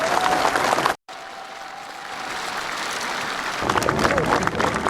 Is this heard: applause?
yes